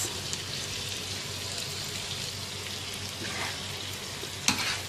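Tawa mutton chaap with garam masala and lemon juice is mixed on a hot griddle, a steady, hissing sizzle running throughout with occasional soft scrapes and one sharper clink near the end, no voices.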